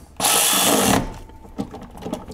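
Clutch bolts being snugged up with a power tool on a 2002 Yamaha G22 gas golf cart drive clutch: one loud, close whir lasting under a second, then a few soft clicks and knocks.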